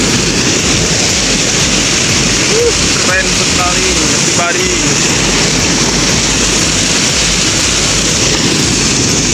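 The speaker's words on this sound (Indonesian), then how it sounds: "Mungkin agak noise ya karena ini bunyi air" A waterfall and flowing river in a valley roar loudly and continuously as a dense, steady rush of water, with a person speaking briefly over it.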